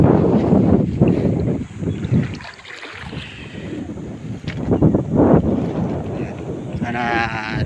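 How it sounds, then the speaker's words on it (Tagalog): Wind gusts across an open sandbar, buffeting the microphone with loud low rumble and whooshing throughout, along with occasional flapping of plastic. "Ibig sabihin mahangin po."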